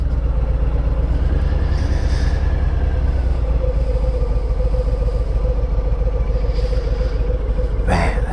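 A BMW K1600GT motorcycle ridden on open road, its engine a steady, loud drone joined by continuous wind rush, with a brief clatter near the end.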